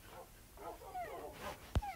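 Minecraft dogs whimper and yip faintly in short scattered bursts, with a sharp click near the end, in survival gameplay.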